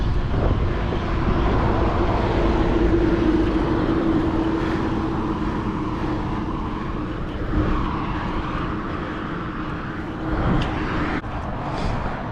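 A 2021 Meta HT motorcycle ridden on city streets, captured from a chin-mounted camera; a steady low engine drone blends with constant wind rush, continuous and close throughout, with slight swells as speed changes.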